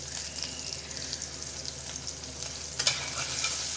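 Green chillies fry in oil in a home kitchen, giving a soft, steady sizzle and hiss throughout, with a brief clatter near the end and no talking.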